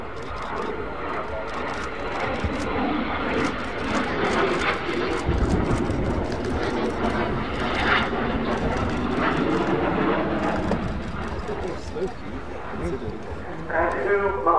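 Messerschmitt Me 262A jet fighter of the German Luftwaffe, the Swallow (Schwalbe), flying at an airshow in British skies, giving a steady, loud broadband jet roar that holds throughout under a busy outdoor ambience.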